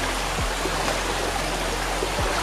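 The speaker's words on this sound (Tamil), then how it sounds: "தண்ணிக்குள்ளே தான் நடந்து போயிட்டுருக்கேன் ஆற்றுல" Someone wades through a shallow river on a trek toward a waterfall, with water rushing and splashing steadily close by and a couple of brief low thumps from the steps.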